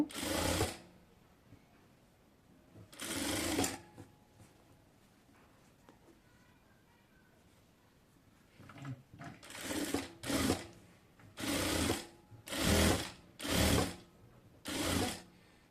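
Bursts of stitching from a sewing machine as a salwar hem is sewn up close, some short and some longer, coming in quick runs toward the end with quiet pauses between them.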